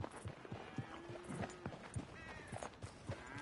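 A horse walks in Red Dead Redemption 2, its hooves striking in a steady, even clip-clop rhythm at close range, with faint voices and other background sounds underneath.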